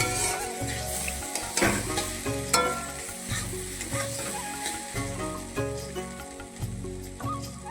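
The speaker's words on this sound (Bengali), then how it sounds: "ভাজাটা একটু নাড়িয়ে দিই, নাহলে বসে যাবে ভিতরে, কড়াইয়ের মধ্যে লেগে যাবে।" Steady sizzling of food stir-frying in a hot wok, with stirring and scraping noises running continuously throughout.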